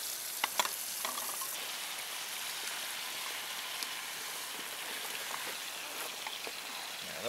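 Pearl onions fry and sizzle in a pan, a steady close hiss with a few brief pops and stirring clicks near the start, no talking.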